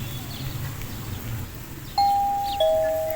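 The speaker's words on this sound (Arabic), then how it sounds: "الجرس بيرن، اما اروح اشوف مين" Two electronic doorbell chimes sound in a cartoon home scene, a clear ding followed shortly by a lower dong, each ringing out briefly over a low background hum.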